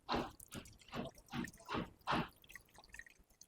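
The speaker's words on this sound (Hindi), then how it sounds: "देखो मैं इसके अंदर पानी डाल दूंगा" Water poured into a plumbing pump during a repair demonstration, faint rhythmic splashing and dripping in about six evenly spaced pulses, heard close and without talk.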